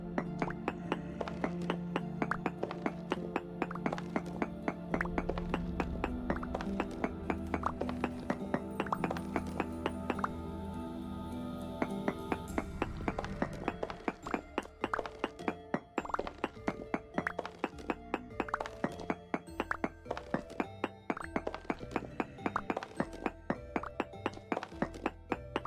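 Bauxite is mined inside a cave in Vintage Story, a wilderness survival game, with steady, evenly spaced tapping thunks of pick strikes running throughout over a sustained tonal background.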